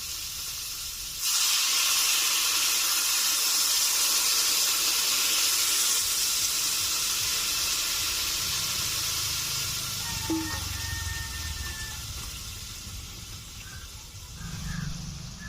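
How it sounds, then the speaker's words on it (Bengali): Water hits a hot pan of Bengali koi fish curry with potato and tomato, setting off a sudden loud, steady hiss of steam and sizzle that keeps going and slowly fades over several seconds, with a few faint clinks. "এখন দিয়ে দিচ্ছি জল"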